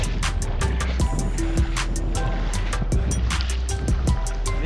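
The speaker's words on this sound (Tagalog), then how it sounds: "Malakas pa rin yung alon" Waves slap and knock against a small fishing boat out on rough water while fishing for brassy trevally, a steady rushing wash broken by repeated sharp splashing hits.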